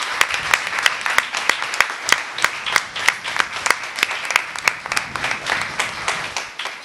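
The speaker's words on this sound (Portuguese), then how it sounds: "Por favor, de coração, aplauso grande para o tanto." Loud audience applause at a cultural event, dense and steady with distinct individual claps cutting through, sustained throughout without talk.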